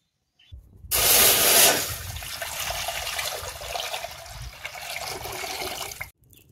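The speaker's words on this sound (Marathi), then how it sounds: "ह्याच्यामध्ये पाणी घालून ठेवते आणि विस्तव थोडा पुढं करून ठेवते, म्हणजे पाणी चांगलं तापेल" Water pours into a pot set over a wood fire for heating, starting with a loud gushing burst and then settling into a steady, close stream for several seconds before stopping abruptly.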